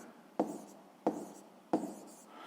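A pen writes a maths answer in three short, quiet strokes or taps spaced about two thirds of a second apart, each with a brief scratchy tail.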